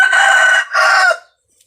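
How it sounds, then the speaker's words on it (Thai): A rooster from backyard chickens kept at home crows loudly and close in two long bursts, then stops, leaving near silence. "เสียงไก่นะคะทุกคนต้องขออภัยด้วยนะคะ"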